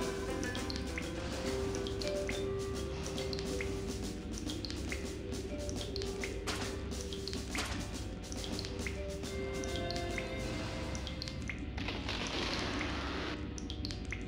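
In the Tales of Legendia video game, water drips from a leak inside a submarine, a steady close patter running over a dense ambient background for the whole stretch.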